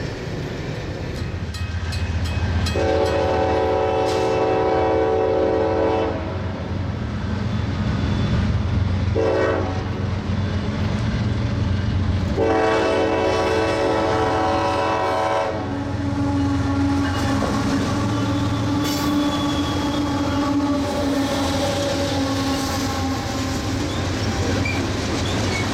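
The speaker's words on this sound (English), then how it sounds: "The other southbound train turns out to be my old buddy, train M635" A long southbound manifest freight train rumbles past close by, steady rolling noise with wheel clatter, and a horn sounds in several long blasts, loud throughout.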